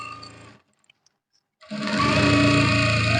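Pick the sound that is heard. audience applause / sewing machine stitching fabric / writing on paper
sewing machine stitching fabric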